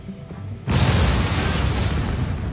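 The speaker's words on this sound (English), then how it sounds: "There's the explosion." A sudden loud blast in the zombie survival video game The Walking Dead: A New Frontier cuts in after a quiet moment, followed by a dense, sustained roar of rumbling debris.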